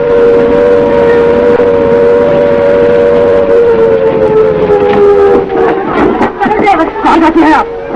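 An air raid siren wails in a classic Hindi film set during a Japanese air attack, its loud steady tones gliding gradually downward under crowd babble and voices, with clattering noises rising toward the end.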